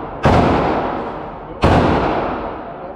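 Two loud gunshots ring out at an indoor shooting range in Tennessee, about a second and a half apart. Each is a sharp, close blast followed by a long, booming reverberant tail.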